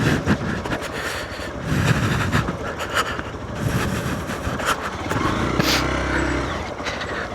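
Hero Xpulse 200 4V Pro motorcycle being ridden, a steady rough engine drone with wind rumble close by, rising and falling slightly throughout, no talking.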